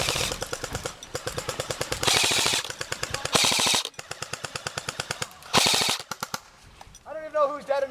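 Rapid bursts of airsoft gunfire crackle through an outdoor skirmish game, close and loud, in repeated stuttering volleys broken by short pauses, with a few shouted voices near the end.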